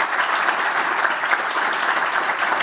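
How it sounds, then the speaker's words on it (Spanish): An audience gives loud, sustained applause after an economics talk, with dense, even clapping filling the whole moment and no gaps. "Un aplauso, por favor."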